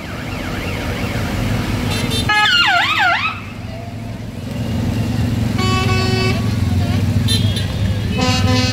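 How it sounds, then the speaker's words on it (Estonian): An airport fire truck in a parade sounds its wailing siren and blaring horn in loud repeated blasts, close by, with rumbling engines and crowd noise around it. "Näe, see on mingi lennujaama pritsuv auto."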